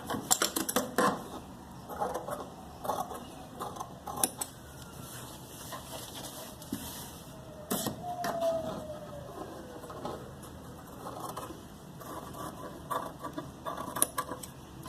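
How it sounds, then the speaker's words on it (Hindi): Scissors cutting salwar fabric, irregular close snips and crisp blade clicks coming in short bursts with quieter pauses and faint background hum. "अब हम इसको भी थोड़ा सा छोड़ के इसको काट देंगे, जो है कपड़ा इसको हम काट देंगे।"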